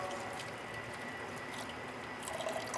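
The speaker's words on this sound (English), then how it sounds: "Then soap up our pestle, rinse it off" Water runs and splashes as a soaped pestle is rinsed off in a mineral separation lab, a steady close stream with small drips throughout.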